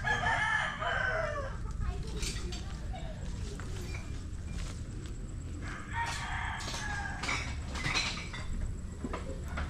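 Roosters crow and chickens cluck at a chicken farm, with repeated crowing calls rising over a steady background of farm noise, while people talk nearby.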